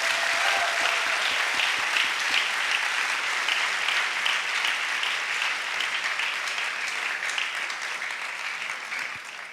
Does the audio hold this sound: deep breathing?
no